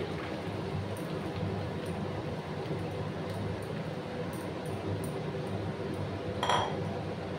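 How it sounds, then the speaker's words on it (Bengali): Puffed rice poured into a pan, a continuous dry rustling clatter with light metallic clinks throughout and a sharper clink near the end, no talking. "এবার আমি মুড়িগুলো দিয়ে দিচ্ছি"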